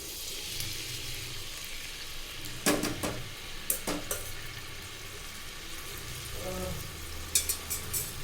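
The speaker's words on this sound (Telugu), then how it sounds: "ఉల్లిపాయ వేసాం కానీ దాన్ని అలా వేగనిద్దామండి" Chopped onions fry in a pan for Andhra-style fish fry: a soft, continuous sizzle with sharp clinks and scrapes of a spoon stirring against the pan now and then.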